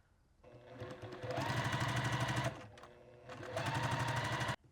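A sewing machine stitches a quarter-inch quilt seam for a star block in two close bursts of rapid, even mechanical chatter separated by a short pause, ending abruptly.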